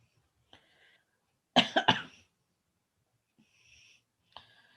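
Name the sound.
coughing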